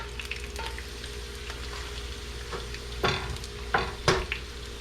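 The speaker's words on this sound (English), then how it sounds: "the secret is to get the oil all over the egg" An egg fries in hot oil with a steady, moderate sizzle and crackle, broken by a few sharper pops and spatters near the end.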